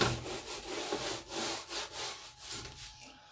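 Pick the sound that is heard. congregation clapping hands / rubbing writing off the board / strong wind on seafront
rubbing writing off the board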